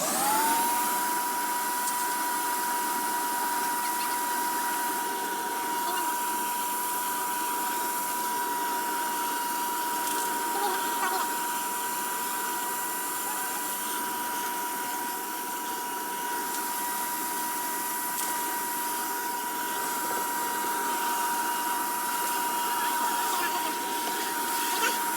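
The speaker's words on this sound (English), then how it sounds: "are you ready for the hoover to go on?" A hoover runs continuously through a homemade cyclone shop vac, a steady loud drone with a whining tonal hum that holds for the whole stretch while voices speak faintly over it.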